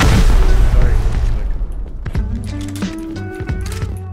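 Gunfire and explosions from a clan raid in the video game Rust: a loud, sustained boom fades over the first seconds, then scattered sharp shots and bursts follow at varying distances, with voices talking over the action.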